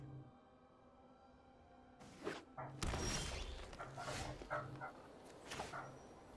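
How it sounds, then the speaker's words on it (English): Several dogs bark outside in a series of muffled, fairly distant yaps and woofs over a steady low indoor hum, with no talking over them. "Got a lot of dogs barking right outside here."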